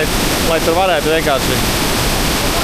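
A waterfall in the misty mountains near Chongqing, China, roars loudly as a steady, broadband rush with spray, close and constant, while someone talks over it.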